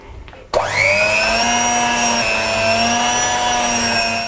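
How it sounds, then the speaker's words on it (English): An electric whisk starts abruptly and runs loud and steady through a Turkish delight mixture with sugar syrup, a close high-pitched motor whine that holds a constant pitch. "keep adding the syrup a bit at a time and whisking after each addition till it's smooth"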